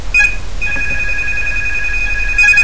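A phone ringing with steady high electronic tones, sounding over a quiet room with a faint low hum and brief bursts at the start and end.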